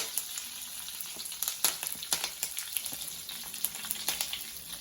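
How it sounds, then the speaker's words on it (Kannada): Curry leaves and dried red chillies sizzling in hot tempering oil with cumin for Andhra-style pappu, a continuous bright crackle with sharp pops, close by and unaccompanied by speech. "ಆಮೇಲೆ ಕರ್ಬೇವಿನ ಸೊಪ್ಪು ಮತ್ತು ಒಣಮೆಣಸಿನ್ಕಾಯಿ ಹಾಕೊಳ್ತಾ ಇದ್ದೀನಿ"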